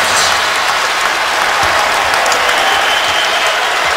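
A crowd at a college basketball game between Ohio State and Kansas applauds loudly and steadily throughout, a dense wash of clapping filling the arena with no talk over it.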